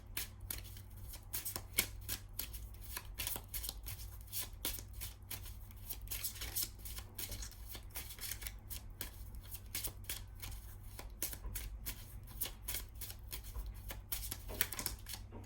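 Botanical Inspirations oracle card deck being shuffled by hand close to the mic, a quiet run of rapid riffling and flapping card bursts repeating irregularly, with no talking.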